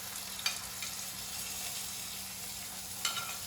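Black beans fry in a pan with a steady, close hiss of sizzling oil, broken by a couple of brief scraping stirs with no talk.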